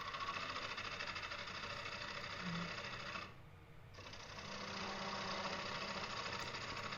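A bowl gouge cuts into a live-edge wooden bowl spinning on a lathe, giving a steady droning hum and scrape that dips briefly in the middle before resuming at full strength.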